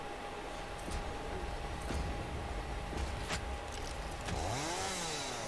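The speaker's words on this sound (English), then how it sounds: "Chainsaw time." A chainsaw in the factory-building video game Satisfactory runs as a steady, loud, continuous drone with a few sharp cutting spikes, alone without speech.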